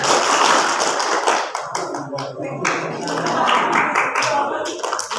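A group of students in a school hall doing a rhythmic clapping game, sharp hand claps in quick bursts filling the room, close and loud, with voices mixed in.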